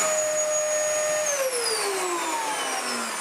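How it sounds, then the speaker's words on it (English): A Dyson DC33 upright vacuum cleaner running with suction, a loud steady whine that holds level and then slides lower in pitch partway through, close and alone. "turn it on and see if there's anything obvious."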